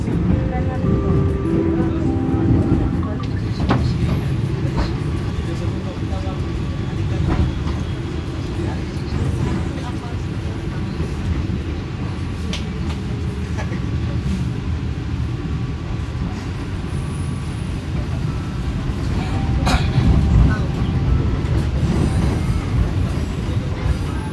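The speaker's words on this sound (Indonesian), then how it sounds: "Kereta api Jayabaya melintas stasiun Jatinegara di jalur 7" Jayabaya economy train rolling through Jatinegara station on track 7, a steady loud rumble of wheels and carriage noise with scattered clicks and rattles throughout, faint voices mixed in.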